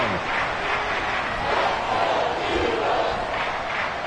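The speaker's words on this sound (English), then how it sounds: "This crowd turning up the decibel level" A stadium crowd roars in a Madden 24 football game, a loud, dense and sustained wash of cheering that swells slightly and holds steady throughout.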